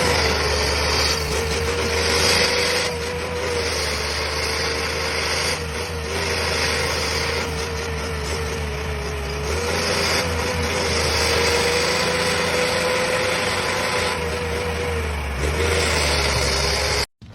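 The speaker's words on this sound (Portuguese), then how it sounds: "Tinha sumido o trator pra dentro do brejo" A tractor engine runs steadily near the microphone while the machine sits stuck in a swamp, making a loud continuous drone with slight rises in revs and no pauses.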